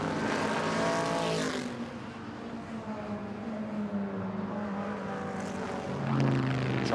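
A loud American muscle race car engine roars past at Goodwood, its pitch sliding downward as it goes by, then another engine rises again at the end.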